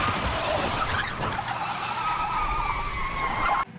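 A car in a film swerving hard, tires skidding and squealing loudly over engine noise for several seconds, ending abruptly as it crashes into a billboard.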